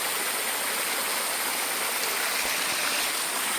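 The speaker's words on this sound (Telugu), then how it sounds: "ఆ టాప్ నుండి వాటర్ అలా దారిలా కారుతుంది" Steady rushing water flows and splashes continuously inside a cave, trickling down from the top, a dense, even wash of sound with no voices, like water running down rock.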